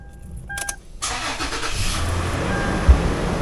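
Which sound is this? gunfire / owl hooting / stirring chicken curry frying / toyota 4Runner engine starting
toyota 4Runner engine starting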